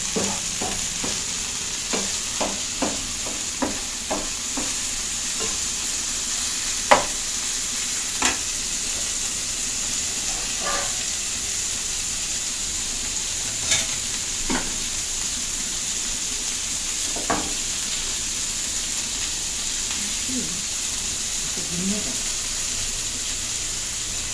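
Onions, green chillies, curry leaves, coriander and tomatoes stir-fry in a pan for vegetable fried rice, a steady loud sizzle broken by a run of quick spoon scrapes early on and scattered knocks later.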